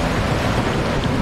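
Water from a raft ride waterfall in Planet Coaster gushes and splashes steadily, a loud, broad, rushing wash of noise with no breaks.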